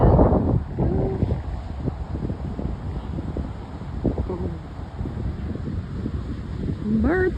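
Wind blowing hard on a beach, a steady rough roar across the microphone throughout, with a few faint bird calls mixed in.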